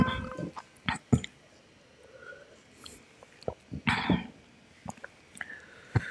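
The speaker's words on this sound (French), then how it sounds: "Mais je tousse déjà comme ça" Several sharp coughs and throat-clearing bursts, scattered irregularly with short pauses between them, close and fairly loud against a quiet background.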